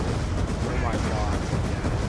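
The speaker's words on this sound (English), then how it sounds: "Oh, unlimited nades!" Grenade explosions in a video-game shooter with unlimited grenades, a dense, continuous barrage of booming blasts and gunfire-like bursts running throughout at steady loudness.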